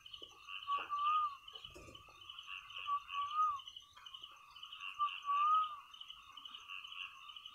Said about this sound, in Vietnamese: Con này đã bắt đầu gáy gù